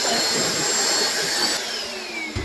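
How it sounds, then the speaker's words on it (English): A vacuum cleaner draws clipped hair off a patient's skin before veterinary surgery, a loud steady whining roar with a high pitched tone, held close and constant. "And now we're going to vacuum all of the hair from our clipping."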